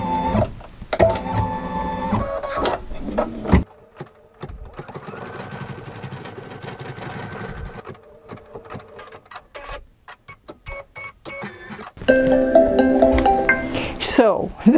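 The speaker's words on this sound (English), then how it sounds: "So let me finish the last little bit of my embroidery." Embroidery machine stitching out the last of a design on vinyl, a fast mechanical whir and rapid needle clatter that starts and stops in bursts, close up, with a voice speaking over parts of it.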